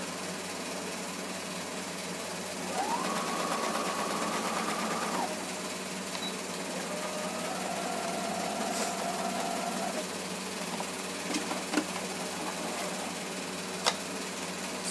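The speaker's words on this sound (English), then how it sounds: "Now I can sew the seam down." A sewing machine stitches down a seam on a garment sleeve, giving two steady runs of motor hum of a few seconds each with a short pause between them, against quiet room noise and a few light clicks near the end.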